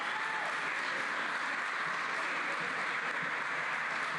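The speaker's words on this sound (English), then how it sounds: "Give a round of applause for that" Audience applause fills an arena during the 2024 Bassmaster Classic Night of Champions, a steady dense wash of clapping with no talk.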